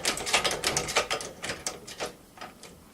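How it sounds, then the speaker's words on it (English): Singer K29 sewing machine with gas illumination running slowly as its hand wheel is turned, giving a quick series of close mechanical ticks and clatters that fade toward the end. "As you can see, Doris is turning the wheel for this small demonstration"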